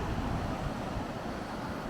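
Waves wash continuously onto a Lake Michigan beach at Douglas Beach, a dense, steady roar of surf with some wind, fairly loud and alone.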